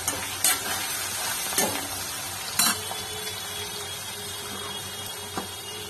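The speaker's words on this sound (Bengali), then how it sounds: "পেঁয়াজ কুচি দিলাম, আদা কুচি দিলাম। এবার নাড়তে থাকবো। এর মধ্যে রসুন পেস্ট দিলাম" Onion, ginger and garlic paste frying in a pan, a steady sizzle broken by a few distinct scrapes of a spoon being stirred through, close up, with no voices.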